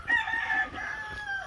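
A fighting rooster crows once, close and loud, a drawn-out strained call lasting over a second at a Dominican-style gamecock breeding yard.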